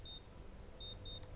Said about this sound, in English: Sorry about that beeping there.